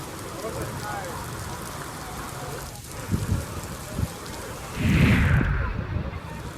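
Heavy rain pours down in Khamgaon taluka, Buldhana, a dense steady hiss with a few louder bursts of splashing, and voices talk over it.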